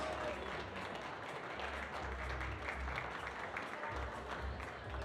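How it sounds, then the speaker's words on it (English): Steady audience applause fills the venue at a youth bouldering final in Graz, continuous clapping from a crowd with a voice speaking faintly over it. "Julia Rasmussen, big applause, come on."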